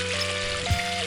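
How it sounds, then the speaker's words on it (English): A small roadside waterfall outside Lockhart, South Carolina, makes a steady, even rush and trickle of falling water, filling the whole moment without any talk. "A little waterfall."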